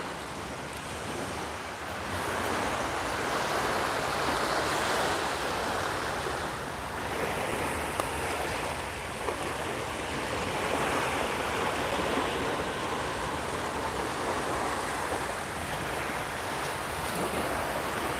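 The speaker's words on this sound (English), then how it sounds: "Probably hear the water a little clearer now too." Ocean waves roll onto the beach at Cape May at sunset, a continuous loud wash of surf with gusts of wind buffeting the microphone and no talking.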